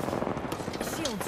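Rapid automatic gunfire in a shooter video game crackles in quick bursts, fairly faint and mixed under a player's talking.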